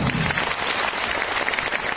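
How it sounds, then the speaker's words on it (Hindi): An audience at a business seminar breaks into loud, sustained applause, dense clapping filling the hall without pause. "एक बार जोरदार ताली तो बजा लीजिए।"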